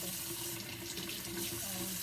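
Hot water runs from a tap, filling up for a puppy's bath, a steady close rushing stream with a constant low hum beneath it, continuous and unbroken for the whole stretch.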